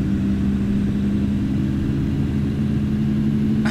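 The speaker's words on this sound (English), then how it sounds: "I really hope you guys can hear me over this truck" A heavy truck engine in American Truck Simulator drones steadily at a constant low pitch, loud and close, with a continuous rumble and no voices.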